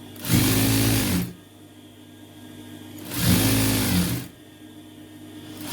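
A sewing machine stitches a sleeve design on cloth folded over on both sides, running in two short bursts of about a second each, with quiet pauses between them.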